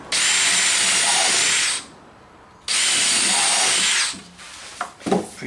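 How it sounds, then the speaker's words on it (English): Power drill pre-drilling pilot holes in plywood for a quarter pipe skate ramp, two steady high whining bursts of about two seconds each with a short pause between, followed by faint handling clatter. "Pre-drill some holes so I'm not struggling to get my screw started."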